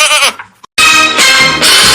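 A cartoon goat in a Tamil comedy animation bleats loudly, with a short wavering cry, a brief gap of silence, then two long, strident bleats close up.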